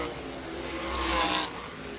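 A USAC sprint car races around the dirt oval at Toledo Speedway, its engine roaring as it passes nearby and swells to a peak before fading, with no talk over it.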